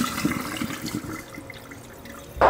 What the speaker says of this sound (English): just drain the dirty water